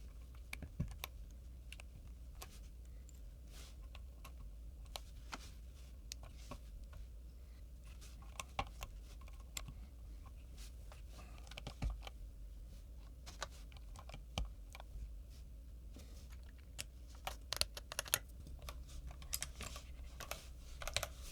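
Kono ABS keycaps pressed one by one onto an Idobao ID67 65% keyboard: scattered light plastic clicks and taps at an irregular pace, close and fairly quiet over a steady low hum.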